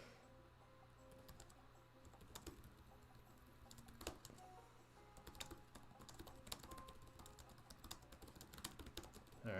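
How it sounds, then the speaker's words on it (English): Quiet, steady keyboard typing, a run of soft key clicks in irregular bursts, close by with no talking. "just typing this all out here."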